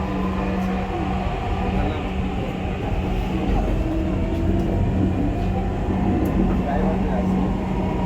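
Steady rumble and hum of a Dhaka metro train bound for Motijheel in motion, continuous and loud throughout, with voices talking faintly underneath.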